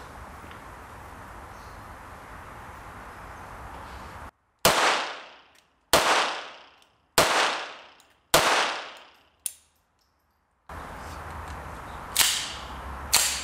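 Five sharp, loud gunshots crack one by one at roughly even intervals from a Colt Ace .22 Long Rifle pistol firing Geco ammunition, each with a short echoing decay, framed by quiet outdoor ambience before and after.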